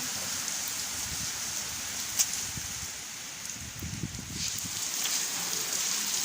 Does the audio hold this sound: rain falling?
yes